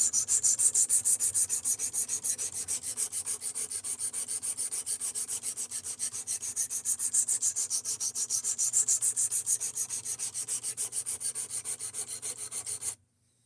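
A blade is worked on a sharpening stone in long, steady, evenly spaced rubbing strokes for over ten seconds, close and continuous, stopping abruptly at the end, with no talking.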